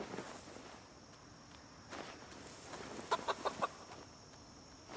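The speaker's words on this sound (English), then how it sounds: "We'll go over here to look at these chickens and see what they say" Chickens clucking in the Project Zomboid video game, heard as a few quick, faint clucks bunched together against a low background hum.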